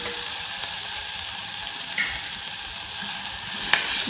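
Green chili paste and spices are stirred together in a hot, oiled pan, producing a constant close sizzle with soft scraping of the spoon and a couple of brief clinks.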